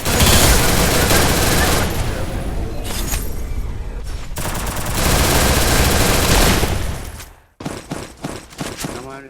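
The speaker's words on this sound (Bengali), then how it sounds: "আমার স্নাইপার গুলো লাগছে" Sniper fire and dense automatic gunfire in an online shooter game, loud rapid bursts that rattle on for several seconds, break off, then return as a few sharp separate shots.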